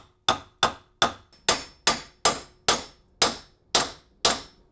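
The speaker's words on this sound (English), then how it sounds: "I think I'm just going to hammer this in" Hammer blows drive a part into a BMW E46 steering rack during a rebuild, about eleven sharp metallic strikes at a steady, unhurried pace, each ringing briefly before fading, close and loud with no voices.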